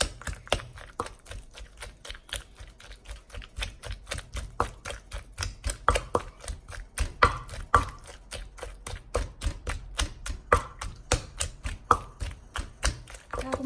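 A knife chops tamarind on a board while making Isaan fermented fish sauce with fresh chili, giving a fast, steady run of sharp close taps for many seconds, with someone talking quietly underneath.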